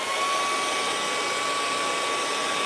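A hair dryer blows steadily over fresh acrylic paint on a moonlit mountain landscape canvas, a constant loud whirring rush with a faint tonal whine, running alone without pause.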